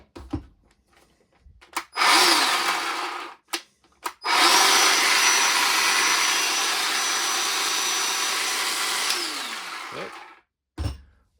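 BAUER 20-volt cordless chainsaw revving, a short burst, a pause with clicks, then a long steady high whine that winds down, close and loud with quiet gaps around it.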